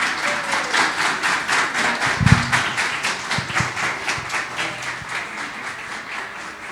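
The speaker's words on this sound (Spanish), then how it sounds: "Démosle un aplauso a Emilita." A church congregation claps together in a strong, rhythmic unison beat, the steady pulse holding throughout with a couple of low thumps partway in.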